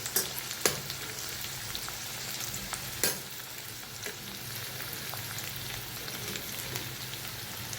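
Potatoes frying in a pan with masala give a steady, close sizzle, with a few sharp stirring clicks and spatters near the start and around the three-second mark.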